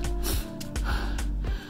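Heavy breathing after shoveling snow in a Canadian winter, several rhythmic loud gasping breaths close to the microphone, with no speech.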